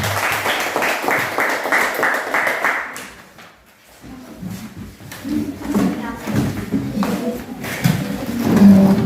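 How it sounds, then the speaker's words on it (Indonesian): Classroom clapping for a student group, a brisk burst of many hands that stops after about three seconds, followed by a quieter stretch where a few scattered claps, shuffling and murmured talk take over. "Tepuk tangan untuk kelompok Tessa"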